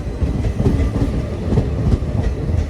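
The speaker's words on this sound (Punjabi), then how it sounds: "ਇਹ ਭਾਈ ਟ੍ਰੇਨ ਸੀਗੀ ਐਕਸਪ੍ਰੈਸ" An express train rumbles along steadily with a rhythmic clatter of wheels on track, heard up close from on board, continuous for the whole stretch.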